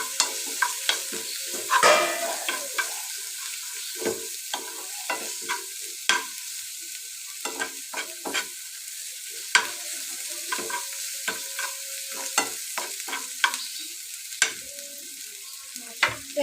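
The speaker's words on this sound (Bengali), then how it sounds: "আর এখন নেড়ে নেবো।" Ginger-garlic paste with chili and turmeric powder fries in a pan while a spoon stirs it, a close sizzle broken by repeated sharp scrapes and knocks, with no voices.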